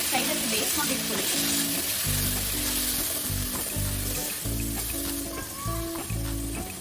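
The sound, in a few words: spinach being sautéed in a pan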